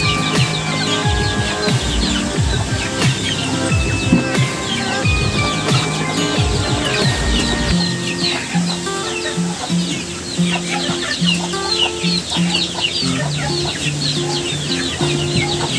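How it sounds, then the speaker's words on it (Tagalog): Forty-five chicks and a mother hen in a rural province yard: continuous dense peeping and soft clucking close by, with steady background bird noise throughout. "45 na sisiw"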